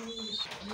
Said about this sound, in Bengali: এটা একটা রেসিং পিজন